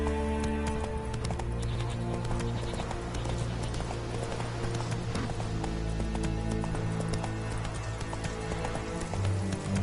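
In The Witcher 3 a horse trots along with steady, even clip-clop hoofbeats and faint snorting, set against a dense layer of in-game music and ambience that runs the whole time.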